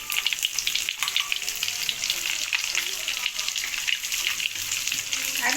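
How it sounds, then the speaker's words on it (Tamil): Anchovy powder and spices sizzle briskly in hot oil in a pan while an egg curry is being cooked, a steady bright crackle with faint stirring scrapes. "நான் நெத்திலி பொடி சேர்க்குறேன்."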